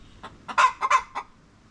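Hens loudly clucking and squawking on an island farm while one sits on the nest and another wants to lay, a few bursts of cackling close by with short gaps.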